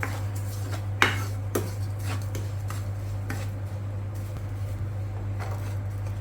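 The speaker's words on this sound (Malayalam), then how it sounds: "എന്നിട്ട് നമ്മൾ നന്നായിട്ടൊന്ന് വഴറ്റിയെടുക്കണം" Semolina (rava) roasts in a pan for uppumavu as a spoon scrapes and clinks against the metal in occasional sharp strokes over a steady low hum.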